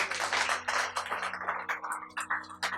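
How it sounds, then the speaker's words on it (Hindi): Audience applause at a poetry gathering, a scattered burst of hand claps of moderate loudness that thins out into uneven individual claps toward the end. "एक बार आप सभी लोग अपने लिए तालियां बजाएं।"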